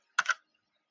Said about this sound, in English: I'm just typing a message.